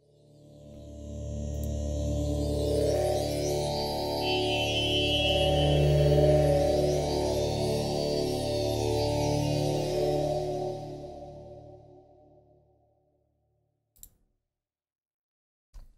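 A celestial pad preset in Vital, drenched in reverb, swells as a rich, dense sustained chord with airy high shimmer, then fades into a long tail and silence, followed by a couple of faint clicks.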